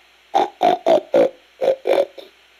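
A person in the video game Metal Gear Solid: Peace Walker imitates a pig, giving six or seven short nasal oinks in quick succession and ending with a softer grunt.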